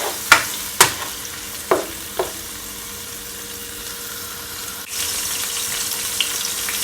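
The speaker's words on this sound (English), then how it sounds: "You're just gonna allow it to saute for at least a couple of seconds or 1 minute or so" Ingredients sautéing in a pot for Jamaican sardine seasoned rice, with a few sharp spoon knocks and stirring scrapes over a low sizzle, then a louder, steady frying hiss that fills the end.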